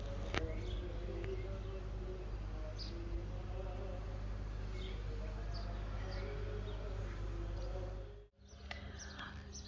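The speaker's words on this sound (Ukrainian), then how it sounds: "Ось такий спокійний ранок, пташки співають." Faint, scattered bird chirps in the morning float over a steady low hum in an open outdoor space in Cyprus, with wind.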